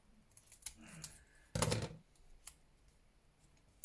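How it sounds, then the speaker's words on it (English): Scissors snip off a small adhesive square, a few light cutting clicks with one brief louder crunch of the blade through the material, close and quiet with no talking. "If your piece is too small, just cut it off."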